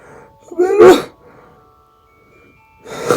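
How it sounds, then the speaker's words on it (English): A single loud, close sneeze with a sharp explosive burst, followed by a quiet pause and a second breathy burst at the end, set against faint background tones. "Sneeze"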